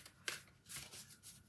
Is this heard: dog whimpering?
no